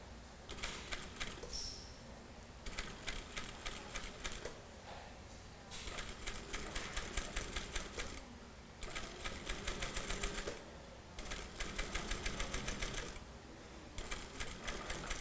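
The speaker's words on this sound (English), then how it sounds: "I'll sew in short runs to make sure that the welting is aligned with the edge of the fabric" A sewing machine stitches welting onto the edge of fabric in short runs, with several bursts of rapid, even needle clatter separated by brief pauses, close and clear with no talking.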